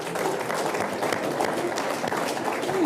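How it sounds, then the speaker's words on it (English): An audience claps steadily throughout a talk on wealth and life principles, a dense, even wash of applause filling the room at moderate loudness. "while you're clapping"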